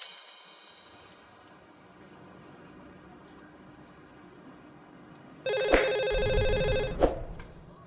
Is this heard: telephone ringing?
yes